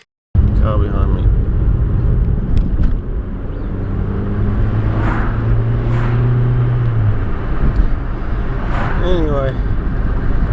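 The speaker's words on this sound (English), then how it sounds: "Car behind me." A car drives past behind someone near the top of Mount Lofty, a steady low road rumble running the whole time with voices talking over it.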